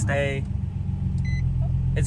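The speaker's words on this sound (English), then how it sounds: "Let me turn on the car really quick." A Nissan 350Z engine turning over and catching, a brief starter whir followed by a low steady idle rumble, close by, with a short electronic chime and a voice talking over it.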